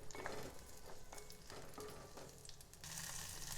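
Four slit green chillies frying in hot oil in a home kitchen for a gooseberry coconut chutney, giving a soft, steady, quiet sizzle with faint stirring scrapes throughout.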